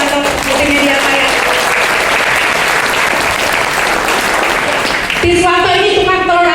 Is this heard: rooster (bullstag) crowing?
no